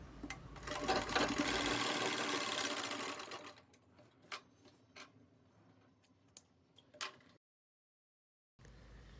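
Sewing machine stitching saree fabric being turned into a lehenga, with a loud steady run for about three seconds, then scattered short clicks and taps before falling silent.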